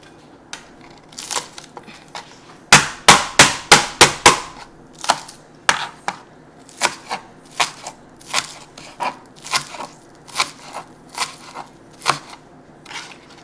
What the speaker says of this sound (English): I'm gonna go ahead and chop off onion, garlic, and shallot, and also Thai chili